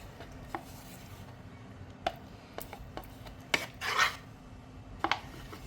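DIY sculpture texture paste being mixed in an old kadhai: soft gritty scraping and rubbing strokes with a few sharp taps of the tool against the metal pan, quiet and close, no talking.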